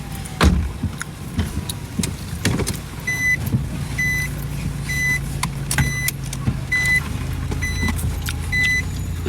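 Car sounds nearby: a low idling hum with whirring power-window motors, a door-like thump and repeated short electronic beeps, moderately loud throughout with no speech.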